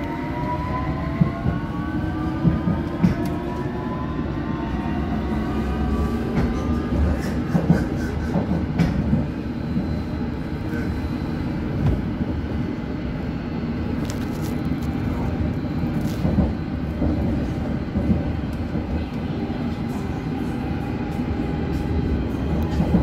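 A London Underground Hammersmith and City Line train to Barking runs steadily, a loud continuous rumble with rail clatter and squealing, and brief onboard announcement-like voice moments.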